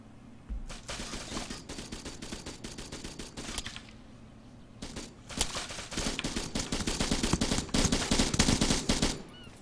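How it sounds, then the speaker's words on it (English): Rifle fire in the ARMA 3 video game crackles in repeated bursts of sharp shots, some rapid and automatic, growing denser and louder toward the end, with little talk. "firing a lot of rounds up to that"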